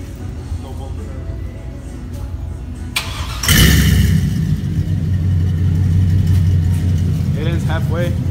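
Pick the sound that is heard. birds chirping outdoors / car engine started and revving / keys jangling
car engine started and revving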